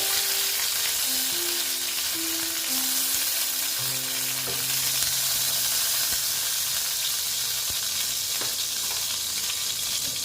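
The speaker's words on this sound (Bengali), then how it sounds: "প্রায় আমার সিক্সটি পার্সেন্ট ভাজা হয়ে গেছে" Pointed gourd (potol) sizzles continuously in frying oil, an even hiss holding steady from start to finish with no talking.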